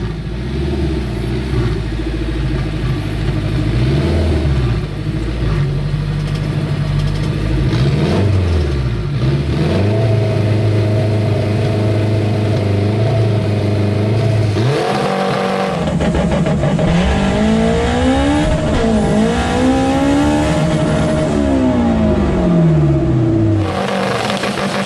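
A 650 HP drag car with a stock Honda K20/K24 engine making a full pass, engine screaming loudly as it climbs through the gears, with sharp pitch sweeps at shifts and an uneven, stumbling stretch partway through.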